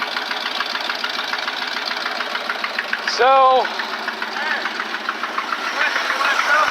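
The engine of a 1977 Dodge D150 pickup truck runs steadily after a carburetor rebuild, a continuous idle that carries on under a person talking nearby.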